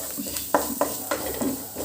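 Eggplant and potato with black pepper powder and turmeric are stirred in a pan at close range: about five sharp, irregular spoon scrapes and clacks over a faint sizzle, with no talking.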